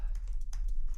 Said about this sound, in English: I'm typing it in now into the Google search.